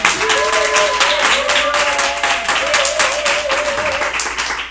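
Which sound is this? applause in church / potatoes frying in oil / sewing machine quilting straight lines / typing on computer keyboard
applause in church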